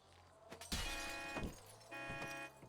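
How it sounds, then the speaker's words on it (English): Glass shatters as a fist punches through a car window in GTA V, a sharp crash followed by tinkling shards, then a second duller smash moments later over steady game ambience. "God, I love watching him punch through the glass like that."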